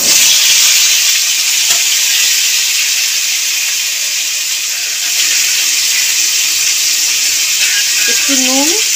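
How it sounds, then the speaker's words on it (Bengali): Papaya pieces fry in hot oil left over from frying potatoes, producing a loud, continuous, close hiss and sizzle, with a voice briefly heard near the end. "আলু ভাজা তেলের মধ্যে পেঁপেগুলো দিয়ে দেবো"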